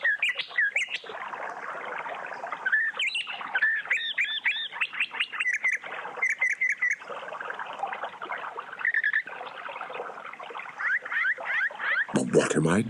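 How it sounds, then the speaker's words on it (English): Small birds chirp and trill in rapid, high-pitched bursts, singing busily and continuously close by. "Soon the bird began to sing and whistle so beautifully that Abu Talha lost track of what he was doi"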